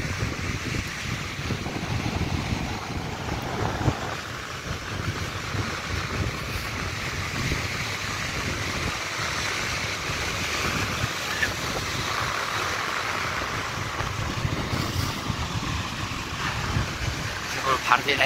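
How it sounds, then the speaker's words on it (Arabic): Sea waves at Ain Sebaa beach in Casablanca, a constant broad wash of surf mixed with wind buffeting the microphone, steady and fairly loud throughout. "البحر ديال عين السبع"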